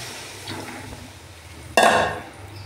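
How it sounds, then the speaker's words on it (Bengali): Water pours into cooked spice masala for rohu fish curry, a sudden loud splash and hiss after a quiet simmering start, then fading, close by with no talk. "মশলা কষানো হয়ে গেছে, দিয়ে দেবো জল।"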